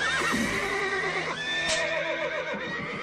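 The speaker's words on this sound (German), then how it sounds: "Alma, helf mir, die Pferde zu beruhigen" Agitated cartoon horses neigh and whinny in high, wavering cries, with hoof clip-clops and commotion underneath, no talk.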